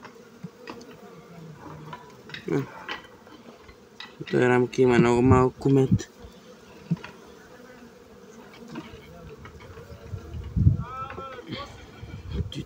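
Honey bees buzz steadily around an open hive while frames are checked, the hum continuous throughout and rising in a louder burst near the middle, with a person speaking over it.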